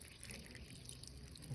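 Water poured slowly from a container onto a small creature outdoors, a soft continuous trickle with faint dripping at a close, steady low level.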